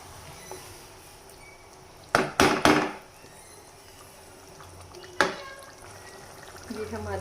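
Boiled mash dal being stirred and mixed in a pot: a quick cluster of three scraping, squelching strokes, then a single stroke a few seconds later, over a quiet kitchen background.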